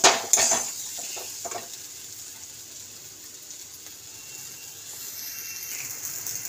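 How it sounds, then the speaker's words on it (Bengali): Water poured into a pan of spices fried down for a home-cooked dish, starting with a couple of sharp splashing bursts that settle into a steady, fairly quiet sizzle and hiss. "এই যে মশলাটা কষা হয়ে গেছে, এবার জলটা আমি দিয়ে দিলাম।"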